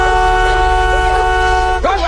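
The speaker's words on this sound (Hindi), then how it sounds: "डर के मारे लड़की जल्दी से कार का हॉर्न बजाती है ताकि बाहर के आदमी को डराकर भगा सके" A loud, sustained car horn blares continuously for about two seconds, then cuts off abruptly.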